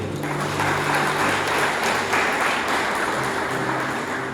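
A church congregation applauds during an evening worship service, producing a steady, full wash of clapping with a faint low hum running beneath it.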